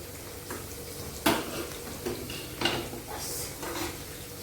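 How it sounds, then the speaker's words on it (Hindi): Corn kernels stir-roasted in a pan over a low flame, with scattered scrapes and clinks of a spoon against the metal and a faint sizzle underneath, no talking. "अब इसको धीमी आँच में हम 2 मिनट के लिए ऐसे भूनते रहेंगे"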